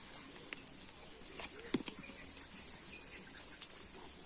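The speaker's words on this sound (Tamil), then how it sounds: "மழை வருது" Light rain begins to fall on the trail up Parvathamalai, with scattered soft pattering drops and faint ticks over a quiet outdoor background, a few brief louder taps standing out.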